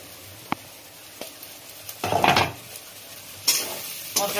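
Spice masala frying and being stirred in a pan for a festive goat-meat curry, with sizzling bursts and scraping stirs, a sharp tap near the start and louder spatter toward the end.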